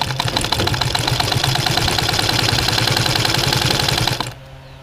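Close, loud and steady, a sewing machine runs a continuous line of stitches along a gown's border piping, its rapid even rhythm stopping abruptly near the end.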